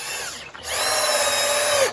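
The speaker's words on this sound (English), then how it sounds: "I'm putting 3 screws down this side just to make it really good and strong." A power drill drives screws into a wooden chicken coop, a short whir, a brief pause, then a longer high whine that winds down, close and loud.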